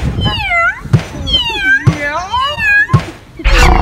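A cat playing with a catnip kicker toy, heard as a series of loud, close, drawn-out meows and yowls with wavering pitch, punctuated by a few dull thumps from the tussle.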